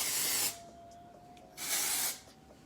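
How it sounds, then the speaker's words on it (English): Two short bursts of hair spray from an aerosol can mist over wavy hair while it is styled for volume, each hiss lasting about half a second, close and clear with a quiet pause between. "This I kind of just sprayed on all over, and just because it is gonna give you volume."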